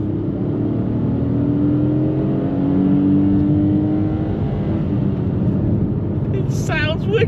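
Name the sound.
Kia Picanto accelerating hard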